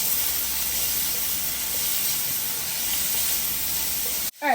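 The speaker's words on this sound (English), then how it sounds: "We're gonna saute our onions until they become translucent." Onions sautéing in a small amount of oil in a pan, a steady loud broadband sizzle and hiss held evenly, cut off abruptly near the end.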